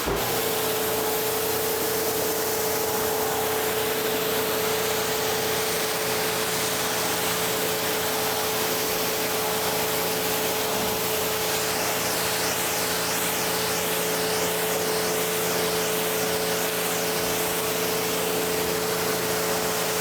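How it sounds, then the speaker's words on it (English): A pressure washer sprays continuously with a loud, steady hiss and a constant motor hum underneath, unchanging from start to finish. "So pressure washer."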